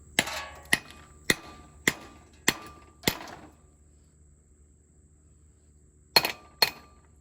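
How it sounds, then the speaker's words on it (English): A small hammer taps a seal driver to seat a front wheel seal on a 1971 Chevy C10 during brake and bearing work, giving six sharp metallic clinks in a steady rhythm, a pause, then two more taps. "Line this up, get a little hammer here."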